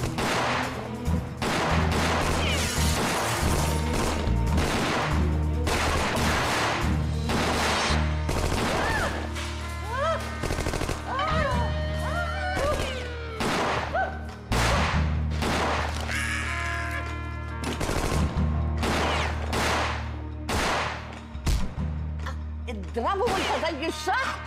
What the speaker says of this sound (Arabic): في تبادل اطلاق نار جوه يا فندم.